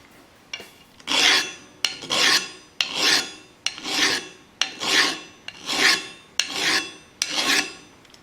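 A metal file rasps across a steel train rail in about nine steady, evenly spaced strokes. Each pass is a loud, close, gritty scrape that bites into unhardened steel, with no voices.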